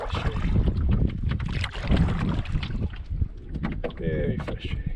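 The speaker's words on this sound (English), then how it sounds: "the wind is so strong" Strong wind gusting across an open lake during walleye fishing from a boat, a steady broadband roar with buffeting against the microphone, plus light water and boat noises.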